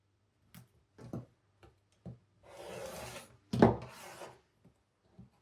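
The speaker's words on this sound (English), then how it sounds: "Trim my edge here." A rotary cutter trims a fabric edge against a ruler on a cutting board while a quilt block is being made: a few soft, close clicks and taps, then two short rasping slicing strokes, fairly quiet with no talking.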